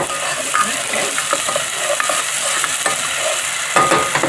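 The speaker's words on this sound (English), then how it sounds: "It's sizzling. You hear the sizzle?" Oil sizzles steadily in a hot pan while vegan Mediterranean spaghetti ingredients are stirred, giving a close, continuous crackle broken by soft scraping clicks of a utensil and no talking.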